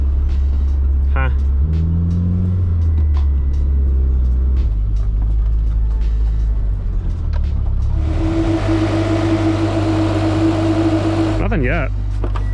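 Steady, loud engine rumble and road noise from inside a Mitsubishi Eclipse with a blown head gasket, cruising continuously with a brief whine near the end and a voice heard in the background.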